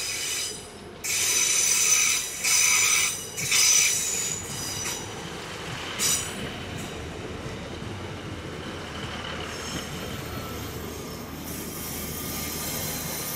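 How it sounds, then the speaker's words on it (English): A pair of British Rail Class 153 diesel units arrive at a station, wheels squealing loudly in bursts over a steady rumble that settles into a lower continuous roll. "a pair of Class 153s arrive, with numbers 320 and 323 doing the honours."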